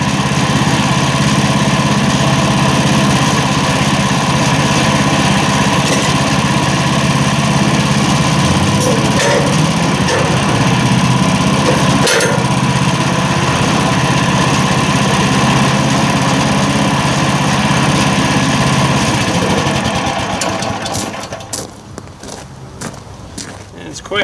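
A tractor engine idles loudly and steadily for about twenty seconds, a constant low mechanical drone with vibration, then fades and drops off near the end.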